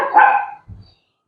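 A small dog at a park in Yercaud gives one sharp, close bark followed by a brief low grunt-like yip, then silence.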